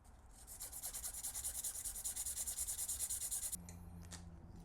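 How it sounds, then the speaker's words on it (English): Medium grit sandpaper rubbing around a clamped graphite golf club shaft in steady, rhythmic back-and-forth strokes, close and fairly loud, ending with a brief pause and a faint clunk. "just get out our good old medium grit sandpaper and just work our way around"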